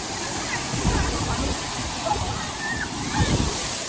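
Kangthi Langso Waterfall roars as a steady broadband rush of falling water, continuous and fairly loud, with surging splashes and faint voices talking beneath the flow.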